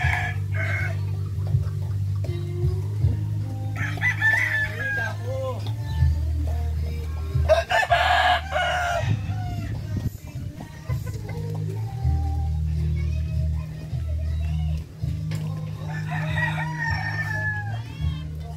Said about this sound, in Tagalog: Ito ang mga manok dito.